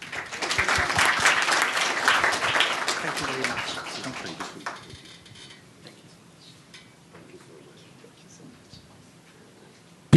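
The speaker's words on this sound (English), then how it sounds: "Please, a round of applause for all of them." An audience applauds panel speakers, dense clapping loud at first then fading away after about four seconds into quiet room tone with faint scattered sounds and a sharp knock at the very end.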